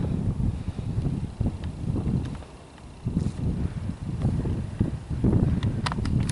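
Blustery wind on a cold November day along a college fitness trail, a continuous low buffeting rumble that swells and eases in gusts, close and fairly loud against the microphone.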